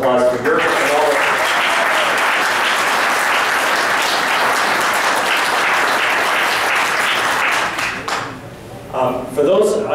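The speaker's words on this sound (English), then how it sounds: "please join me in a round of applause for Jürgen and all of" Audience applause following a keynote at the IHE World Summit 2013, a dense, sustained clapping that fills the room for most of the stretch before thinning near the end as a voice returns.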